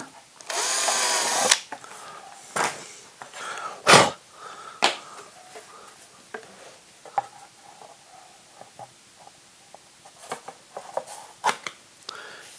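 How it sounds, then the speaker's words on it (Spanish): A power drill bores a hole through a thin 2 mm plywood sheet, a loud whining burst at the start followed by short drill pulses and scattered handling knocks, with no voices. "esto es contrachapado de 2 milímetros. Le hacemos un agujero aquí."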